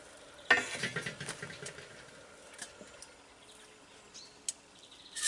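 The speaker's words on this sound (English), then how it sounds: "There's water boiling." Water bubbles quietly in a pot, a faint crackling simmer with a few sharper pops and clinks, close by and without any talking.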